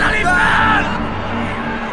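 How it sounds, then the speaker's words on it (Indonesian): A crowd of people in a dramatized biblical scene shouts and yells together, a loud sustained clamour of many voices that swells and then slowly fades. "Namun mereka makin keras berteriak"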